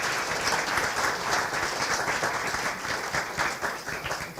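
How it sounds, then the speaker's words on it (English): An audience at a National Windrush Museum event in the House of Lords claps warmly, a sustained, even patter of many hands at moderate volume with no speech over it. "Give a round of applause."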